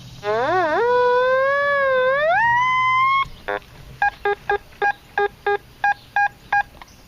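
A Fisher F70 metal detector pinpointing targets in a trashy public park makes a long, steady electronic tone that bends and rises. It then gives way to a rhythmic series of about ten short, clear beeps, loud and close.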